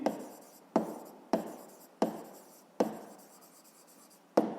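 A pen writing a physics formula on paper, five or six sharp strokes in an irregular rhythm, each tailing off into soft scratching, quiet and close with no talking.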